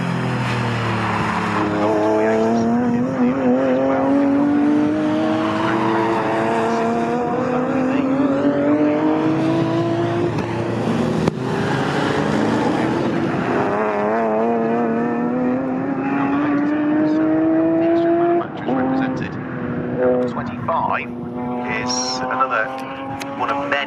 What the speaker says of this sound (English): here's Porsches fighting away with Jaguars further down through the field